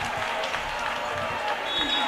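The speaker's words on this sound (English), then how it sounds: "Got the crowd fired up" Crowd at a high school boys basketball game between Vandegrift and Westwood breaks into applause and cheering after a made three, a continuous roar of clapping in a gym with a commentator's voice over it.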